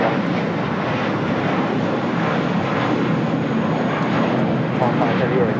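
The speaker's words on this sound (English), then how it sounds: "This is United Airlines 1855 taking off to Houston Intercontinental on an A320" A United Airlines Airbus A320 takes off from LAX toward Houston, its jet engines making a loud, sustained broadband roar that holds steady throughout, with voices talking over it.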